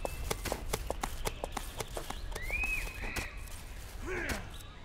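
Rapid hoofbeats clop in a quick, even rhythm from a horse in a video game, fairly close and crisp, with a brief voice and a sliding tonal cue near the end.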